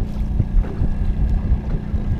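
Strong wind roaring over rough open lake water, with low buffeting rumble and choppy wave noise, no voices.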